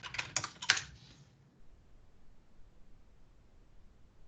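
A computer keyboard clicks in a brief, quick burst of keystrokes at close range, then falls to near silence with only faint room noise.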